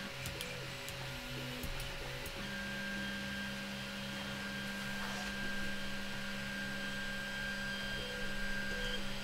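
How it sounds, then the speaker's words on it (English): An Ender 3 3D printer homing its axes, giving a steady close mechanical whine with stepper-motor tones that shift partway through, plus a few soft ticks and clicks at the start. "So let's see if this thing homes. Move axis. And let's see if we can home it."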